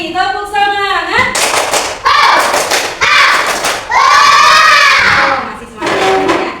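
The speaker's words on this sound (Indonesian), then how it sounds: "Coba satu kali lagi, tepuk semangat." Children in a classroom doing a rhythmic group clap, bursts of sharp claps in short patterned clusters alternating with loud chanted voices, close and energetic.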